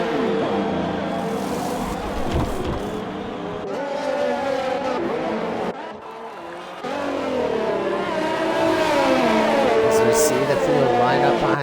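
Race cars driving out of the pits behind a safety car at the Dutch Grand Prix in an Xbox racing game, engine whines rising and falling as cars pass close, with a voice talking over them.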